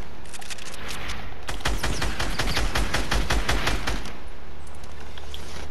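Rapid bursts of gunfire and sniper shots ring out in a Fortnite match, a dense volley of sharp cracks lasting a few seconds before trailing off into quiet.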